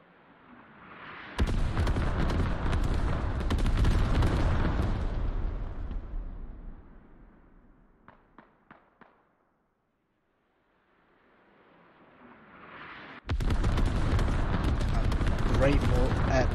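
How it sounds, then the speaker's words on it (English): Heavy mortar and artillery strikes in the military shooter game Squad on the Mutaha map, two long rumbling barrages of blasts separated by a quiet gap with a few sharp single shots, with speech heard faintly around them. "Great mortars. Slightly bigger mortars, should I say, but great artillery called in."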